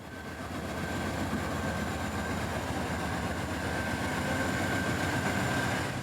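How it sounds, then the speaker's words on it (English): An ethanol unit train of black tank cars rolls past in Central Florida with a steady, loud, rumbling rail roar and a faint high tonal whine, building slightly and holding without a break. "the unit train of ethanol would get a move on"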